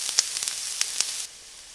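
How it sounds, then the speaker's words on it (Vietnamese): Pickled mustard greens sizzle and hiss as they hit a pot of braised beef, a bright steady sizzle with a few crackles, cut off after about a second. "Bây giờ mình sẽ cho tiếp tục cái phần cải chua vào luôn."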